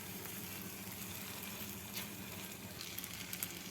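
Katla fish pieces hitting hot oil and gravy masala in a pan, giving a steady close sizzle and frying hiss with a few brighter crackles toward the end.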